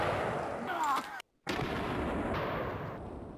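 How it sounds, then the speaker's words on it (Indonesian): An electronic toy police pistol plays a loud, steady rattling gunfire effect up close, with one brief cutout partway through. "lihat teman-teman, di sini ada pistol polisi"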